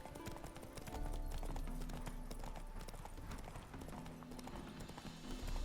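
Steady horse hooves clip-clopping in The Witcher 3 on Xbox Series S, in Novigrad, over a dense, busy game soundscape with layered effects, continuous and fairly loud throughout.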